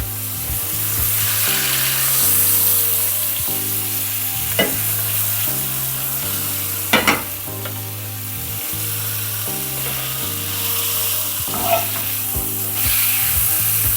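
A steak fillet browns in a hot pan with a steady sizzle, plus a few sharp clinks and scrapes of utensils partway through, close and fairly loud throughout.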